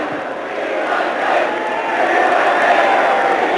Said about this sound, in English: The chants of "We want 10" coming from the crowd.